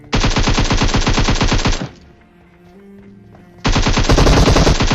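Rapid automatic gunfire from the PUBG video game, loud bursts of shots lasting about two seconds, a short quiet stretch with faint game sounds, then another sustained volley.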